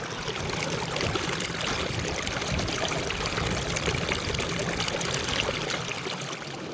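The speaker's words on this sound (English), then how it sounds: "This little stream between the rocks is making a cool sound." A small stream runs between rocks at Whitemouth Falls, its water pouring and trickling in a steady, close, unbroken rush with no voices.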